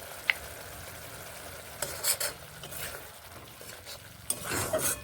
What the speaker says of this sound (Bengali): সব মশলাগুলোকে একসঙ্গে মিশিয়ে এইভাবে কষিয়ে নেব খুব ভালোভাবে